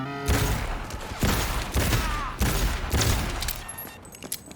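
Heavy gunshots in the game Cyberpunk 2077, four or five loud separate blasts spaced about a second apart, each followed by a short decay, with a faint voice underneath.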